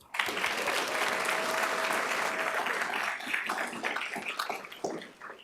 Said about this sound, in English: we'd like to applaud her efforts